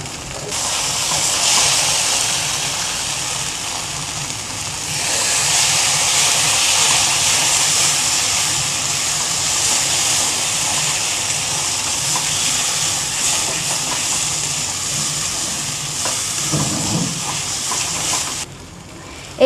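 Small fish frying in oil in a pan for an Assamese fish dish, a steady loud hiss and crackle running almost the whole way with no talk, then cutting off near the end.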